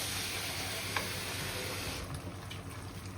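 Water pours into a thick coconut milk curry with carrots in a pot, a steady broadband rushing hiss that shifts and thins out partway through.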